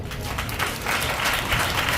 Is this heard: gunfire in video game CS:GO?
no